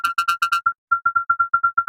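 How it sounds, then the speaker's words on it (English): A very low note and a very high note played together through heavy distortion, pulsing in short, evenly spaced bursts that become one repeated tone. "We have a low note here, and we have a high note. And when you do that together and you put distortion on it."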